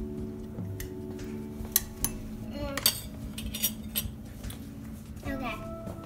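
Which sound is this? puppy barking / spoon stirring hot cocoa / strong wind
spoon stirring hot cocoa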